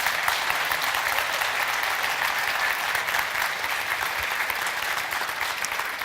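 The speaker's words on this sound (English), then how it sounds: "I think he deserves a little bit of applause" A developer audience at a talk gives steady, even applause, a continuous crackle of many hands clapping that holds at a constant level for the whole six seconds, with no voices over it.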